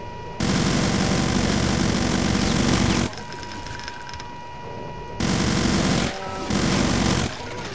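A minigun fires in the Brutal Doom video game, a loud, dense, continuous mechanical roar in long sustained bursts broken by brief gaps.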